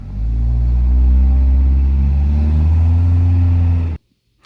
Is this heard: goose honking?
no